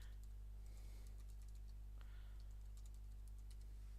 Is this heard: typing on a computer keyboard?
yes